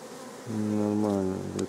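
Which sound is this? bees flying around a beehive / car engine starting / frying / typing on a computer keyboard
bees flying around a beehive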